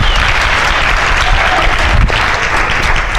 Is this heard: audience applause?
yes